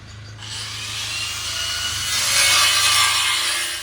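A worker runs a grinder at a duplex construction site in Las Piñas, giving a steady, loud high-pitched whine with a low hum underneath that swells and holds throughout, with no talking.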